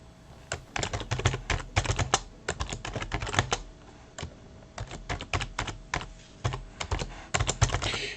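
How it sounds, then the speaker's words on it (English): Rapid typing on a computer keyboard, close and clear, with bursts of crisp key clicks separated by brief pauses, heard alone with no talking. "Forgive me, I have to type these out right now."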